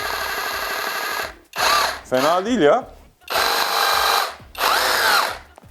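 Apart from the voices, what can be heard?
cordless drill in hammer drilling mode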